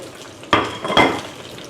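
Two quick bursts of sizzling and scraping as mackerel grills in a pan, a metallic clatter as the fish is moved, then a quieter crackle of frying continues.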